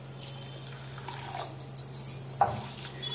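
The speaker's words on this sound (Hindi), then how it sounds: "इसको अच्छी तरह से धो लेंगे।" Flattened rice (poha) is rinsed in a bowl of water in a home kitchen, with quiet sloshing and a brief splash over a steady low electrical hum.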